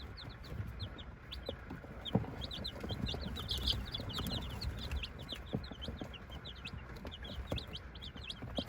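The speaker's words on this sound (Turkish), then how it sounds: "Evet, bir haftalık süsek civcivi." Many one-week-old chicks cheep in quick, high peeps, scattered and overlapping over a low, faint background rumble, with occasional clucks.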